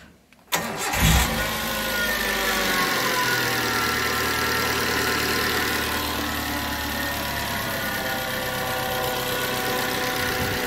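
A Suzuki APV engine cranks briefly, catches and starts, then settles into a steady, loud, close idle that runs on without any talking.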